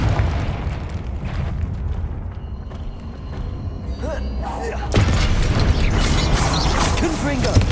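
Confringo fire spell blasts in Hogwarts Legacy, a loud continuous roar of bursts and mechanical game effects, swelling into a heavier explosive wash partway through, with a voice heard under the din.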